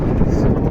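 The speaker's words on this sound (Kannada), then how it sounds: "ಸೌಂಡ್ ಕೇಳ್ತಿರ್ಬೋದು, ಹೆವಿ ಗಾಳಿ ಬೀಸ್ತಿದೆ" Heavy wind buffets the microphone outdoors on a road trip from Bangalore to Mantralayam, a continuous low rumbling roar with no break for the whole moment.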